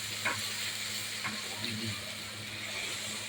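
Spice masala frying in oil in a pot on a large stove, a steady hissing sizzle with a few soft stirring scrapes, close and even throughout, with no talk.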